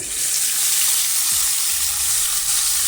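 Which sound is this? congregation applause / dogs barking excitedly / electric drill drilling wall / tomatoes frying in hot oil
tomatoes frying in hot oil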